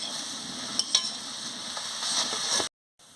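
Mixed vegetables for a Bengali chorchori fry in a pan while being stirred, a soft, steady sizzle with a few scraping clinks from the spoon, before the sound cuts off to silence.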